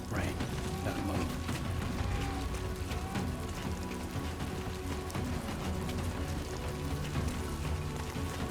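Rain, the timefall of Death Stranding 2, falls steadily as a dense, even patter, close and continuous, with faint mechanical clicks and a low ambient game hum beneath it.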